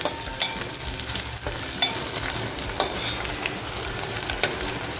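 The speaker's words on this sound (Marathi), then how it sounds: "आपल्याला ही चरबी आहे ना छान छान अशी खमंग परतवून घ्यायची आहे" Mutton fat sizzles and fries steadily in a pan while being stirred, a dense continuous crackle with occasional scraping clicks from the spoon, close and moderately loud, no voices.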